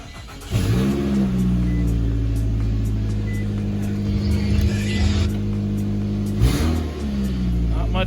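A Nissan Altima engine with reworked exhaust runs close and loud, a steady rumbling idle that rises into a rev near the start and surges again briefly later.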